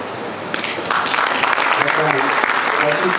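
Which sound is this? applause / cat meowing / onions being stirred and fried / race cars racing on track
applause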